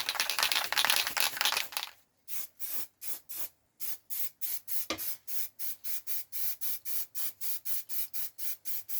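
An aerosol can of Halfords weld-through primer sprays onto a car panel: one long hiss, then a rapid series of short even bursts, close and loud.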